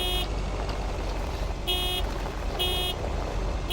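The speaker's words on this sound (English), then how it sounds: "When my horn goes toot toot." A car horn honks in the video game Lake, giving three short, evenly spaced toots over a continuous engine rumble that stays loud and close throughout.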